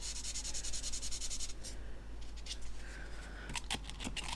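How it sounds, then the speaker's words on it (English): A plastic model is sanded with 600 grit sandpaper, heard close up as a fast, rhythmic rasping scrub of short strokes that slows into scattered rubs and scratches. "I'll just pop it up to a 600 grit, and this will very, very, very quickly and easily remove the marks left by the 400."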